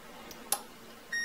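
A single steady continuity tester beep starts near the end and holds, after a faint brief click, with quiet background hiss and no talking.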